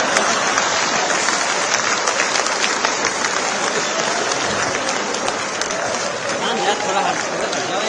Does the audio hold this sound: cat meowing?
no